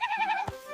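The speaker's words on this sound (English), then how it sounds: "G is for goat." A goat bleats once, a short nasal cry following a higher sustained animal-like call in a children's alphabet song, heard alone without talk.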